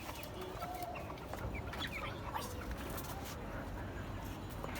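Desi chickens cluck and call repeatedly in a farmyard, the hens fairly close amid steady outdoor noise, with people talking nearby.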